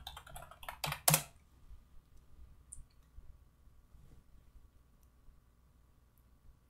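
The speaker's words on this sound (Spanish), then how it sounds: "Ok, escribo la contraseña." A password is typed on a computer keyboard in a quick cluster of close keystrokes near the start, followed by a quiet room with only faint stray clicks.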